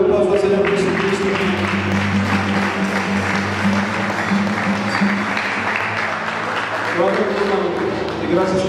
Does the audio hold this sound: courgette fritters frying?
no